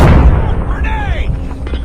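A grenade explodes in Call of Duty on the Nuketown map, a loud boom at the very start that decays quickly, followed by a voice speaking over the fading rumble.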